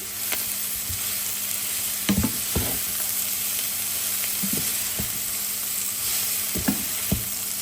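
Beetroot with its leaves and a crushed biscuit mixture fry softly in a pan, a low steady sizzle broken by several sharp stirring clacks and scrapes of the utensil.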